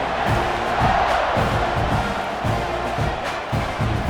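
A large stadium crowd roars and cheers steadily in College Football 26 before a kickoff in a Missouri at Texas A&M SEC Tournament game. The wash of noise is dense and sustained, with a low rumble underneath.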